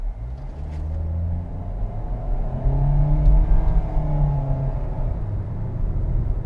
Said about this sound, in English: so I'm gonna just floor it.